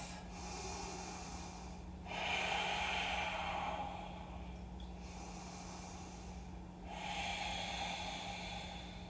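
Slow, deep human breaths during a yoga twist, several long airy exhales and inhales alternating in a quiet room, close and soft with no talking.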